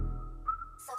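Melodic whistle in a music track, a single sustained tone that bends upward midway, heard alone over a soft low backing that fades out near the end.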